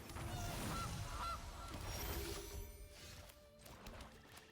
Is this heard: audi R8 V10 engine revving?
no